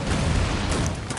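Gunfire rings out in a battle in the strategy game Cossacks 3, a loud, dense, continuous crackle of shots blurring into a roar.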